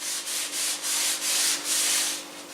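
Vegetable oil worked by hand into a cast iron dutch oven, a steady series of rhythmic rubbing strokes, close and dry-sounding, with no talking.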